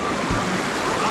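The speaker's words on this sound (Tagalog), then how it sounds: "Lakas ng tubig." Strong rushing water of a river crossing roars steadily and loudly throughout, a dense, continuous wash of flowing current close by.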